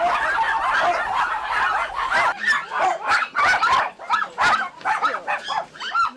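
Many puppies and dogs in an unlicensed puppy breeding farm bark and yap in a busy, overlapping chorus, with close repeated sharp barks and whines filling the whole stretch.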